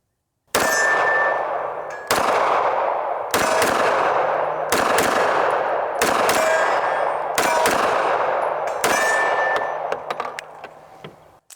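A MAC 9 DS Comp pistol with a compensator fires seven sharp, loud shots at roughly even intervals, each with a metallic ring and a long, echoing decay. The last echo fades out, and no one speaks.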